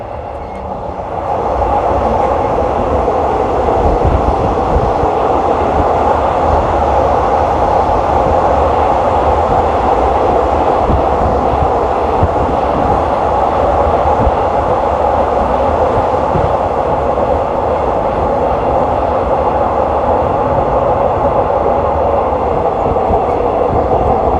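A train rides from Don Mueang to Krung Thep Aphiwat Central station in the evening. After a brief quieter start it settles into a loud, steady rumble with rolling wheel clatter.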